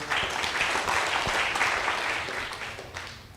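A church congregation applauds during a sermon, a steady wash of many hands clapping at moderate level that fades slightly at the end.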